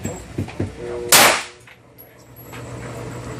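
A single loud gunshot cracks out at an outdoor gun range, sharp and close, preceded by a couple of duller knocks and followed by a short decay into quiet range ambience.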